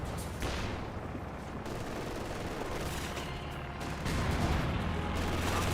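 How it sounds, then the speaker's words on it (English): Sustained MG42 machine gun fire in Company of Heroes 2, a dense continuous battle din that swells louder in the last couple of seconds, with no voices over it. "MG42 now hitting the flank"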